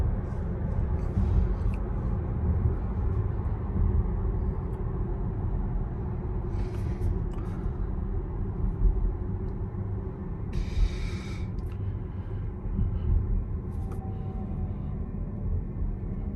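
A Volkswagen ID.4 1st Edition electric car slows down, heard from inside as a steady low road rumble with a faint whining tone, with brief soft rustles over it.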